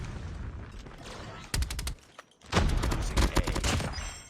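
Rapid automatic fire from a 60-round-magazine rifle in COD Mobile comes as two loud bursts separated by a brief lull, with battle noise around them.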